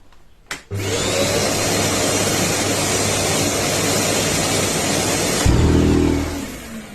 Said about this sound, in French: à chaque extinction en fait de ton aspirateur, il va te produire une petite vibration au niveau du filtre, histoire de le nettoyer quand même